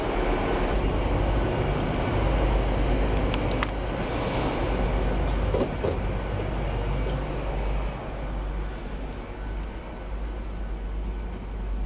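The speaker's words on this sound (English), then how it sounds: "this might be my train" A train rumbles at a railway station in Hull with a steady, loud, broad roar, a brief hiss of brakes partway through, and a slight easing near the end.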